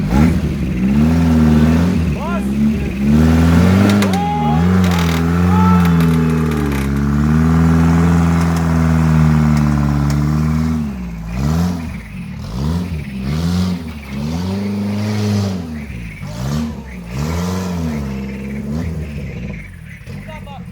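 A homemade vehicle's engine revs hard and repeatedly while stuck in sand, rising and falling in pitch, loud and close, with people talking over it.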